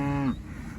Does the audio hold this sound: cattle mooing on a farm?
yes